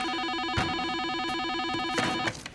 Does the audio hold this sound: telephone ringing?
yes